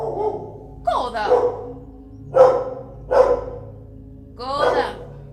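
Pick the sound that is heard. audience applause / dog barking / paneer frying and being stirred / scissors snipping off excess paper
dog barking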